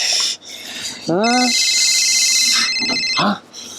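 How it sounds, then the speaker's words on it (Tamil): A phone ringtone sounds for about two seconds as a steady electronic tone, fairly loud and clear, with a voice speaking just before it and briefly overlapping its start and end. "ஃபோன் ரிங் பண்ணுற சத்தம் கேட்குது"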